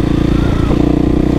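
A motorcycle out on a cruise through ordinary traffic, its engine holding a steady, close, loud drone with a constant throbbing pulse from start to finish.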